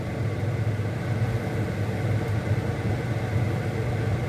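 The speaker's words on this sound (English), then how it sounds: "Don't mind the noise, that's the exhaust fan going." A kitchen exhaust fan hums with a steady drone and low rumble, running continuously and evenly throughout, fairly loud, with no talking.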